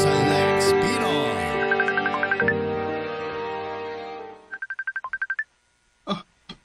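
A mobile phone plays a loud melodic ringtone, a tune followed by a quick run of repeated beeping notes, then it cuts off, with a brief sound after a pause.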